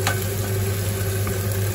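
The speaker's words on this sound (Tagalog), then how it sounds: "maganda na yung pagkaluto ng sibuyas at bawang" Onions and garlic sautéing in a pan, a steady close sizzle with soft stirring scrapes over a constant low kitchen hum.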